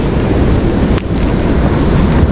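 Big sea waves surge around a small boat at sea, heard as loud, constant rushing water and wind buffeting, with one sharp splash or slap near the middle and no talk.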